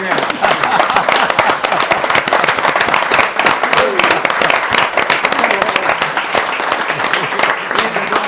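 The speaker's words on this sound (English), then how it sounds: "I think you deserve a huge round of applause, my friend, and I think we should all give it to him now" Sustained applause from an audience honoring a filmmaker at a Pegasus Bridge event, dense and steady throughout with loud overlapping clapping and a murmur of voices mixed in.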